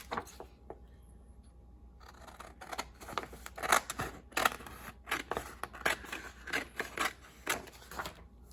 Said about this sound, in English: And just cut something to journal on to go in each of those.